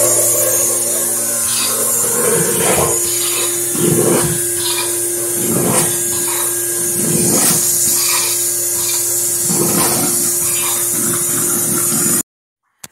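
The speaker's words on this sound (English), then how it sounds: "turns on the vacuum pump" A milking vacuum pump hums steadily with a rhythmic pulsing beat repeating about every couple of seconds, close and loud, then cuts off abruptly near the end.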